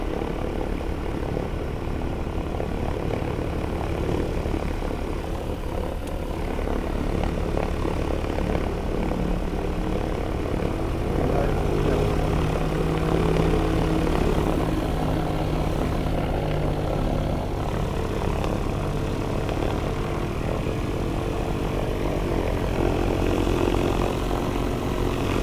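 Piston propeller engines of a 1944-built DC-3 Dakota drone steadily and loudly while the plane taxis, a continuous rumbling hum heard from the cockpit with no talk.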